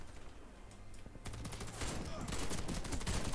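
Gunfire from a shotgun in the Warface online shooter game crackles in rapid bursts of sharp shots, getting denser and louder toward the end, with faint game background noise.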